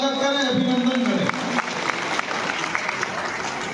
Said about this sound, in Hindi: एक बार जोरदार ताली बजाकर स्वागत करें, अभिनंदन करें।